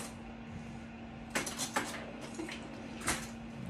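Metal utensils clink and rattle in a few short bursts as a large spoon is pulled from a kitchen utensil holder, set against a steady low hum in a quiet kitchen.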